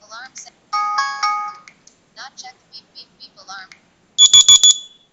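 A phone's built-in alarm tone plays in several parts: a sustained multi-tone chime, then a string of short separate beeps, and finally a loud quick run of bright pulses, clear and close with no other sound.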